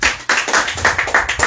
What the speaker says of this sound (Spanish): Regálale una ofrenda de palmas.